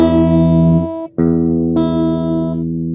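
A sustained, buzzing instrument note rings loudly, breaks off briefly, then sounds again with a sharp re-attack as its pitch is adjusted.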